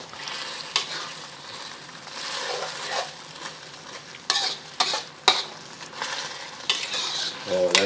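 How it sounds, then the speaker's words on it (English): A spoon stirs Asian pasta sauce thickened with cornstarch slurry in a hot pan, the gentle bubbling sizzle broken by sharp scraping clacks and scrapes that grow busier near the end, close up with no talking. "add your cornstarch slurry and stir that around"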